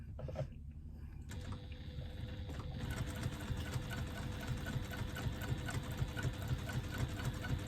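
A sewing machine stitches a wristlet strap seam, starting up after a brief pause and then running in a steady, even whirr of rapid needle strokes, close and moderately quiet throughout.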